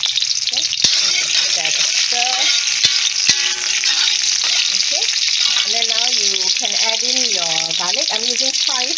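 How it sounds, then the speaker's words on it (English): Onion sautéing in hot oil in a pan or wok, a steady close sizzle with occasional stirring scrapes, while someone talks over it throughout. "heat up some oil in a pan or wok. It's up to you, your preference. And saute the onion"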